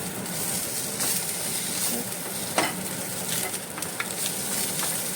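Coriander stems being stirred into a sizzling masala in a pan for a whole masoor dal dish: a continuous frying hiss with occasional scraping stir sounds, close and alone.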